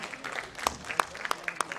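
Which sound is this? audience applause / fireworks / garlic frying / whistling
audience applause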